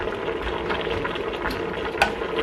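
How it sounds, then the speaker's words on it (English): Meat stew simmering in a pot during large-batch family cooking, a soft continuous bubbling with small pops and one sharper tick, fairly close and quiet, with no talk. "it's been simmering for a while"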